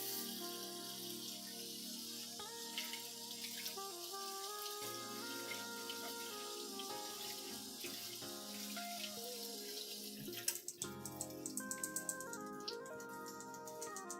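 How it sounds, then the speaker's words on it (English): Canned beans rinsed under a running kitchen tap, a continuous splashing stream of water with shifting pitch as the flow hits the beans, growing brighter and more spattery near the end, with no voices. "In fact, I am rinsing these beans."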